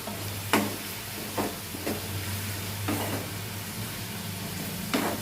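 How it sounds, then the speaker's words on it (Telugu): Green chillies crackle with fried onions in a pan, a quiet steady sizzle punctuated by several spatula scrapes and taps, over a low constant hum. "ఇప్పుడు మనం ఇందులో పచ్చిమిరపకాయలు వేసుకుందాం"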